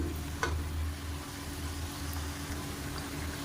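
Black urad dal vadas fry in hot oil over a medium flame, a soft, even sizzle that stays steady and fairly faint, with a single brief knock near the start and no speech.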